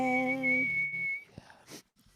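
A man whistles a tune in a long sustained, clear note that fades out as his breath runs short, followed by a brief soft noise.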